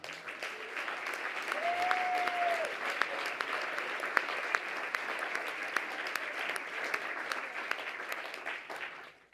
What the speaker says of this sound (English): give a round of applause for John